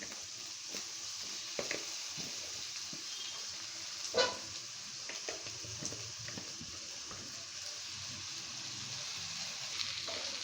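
Chicken pieces go into a pan of chili and ginger-garlic paste with water for basmati chicken biryani, giving a quiet, steady sizzle broken by a few soft clinks and stirring knocks.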